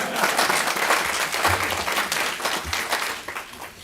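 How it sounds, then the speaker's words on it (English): Applause from an audience at a Villa Rica city council meeting, a steady broadband wash of many hands clapping that fills the whole stretch at moderate loudness with no voices on top. "If y'all want to applaud that,"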